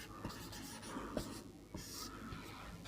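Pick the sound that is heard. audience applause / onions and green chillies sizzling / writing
writing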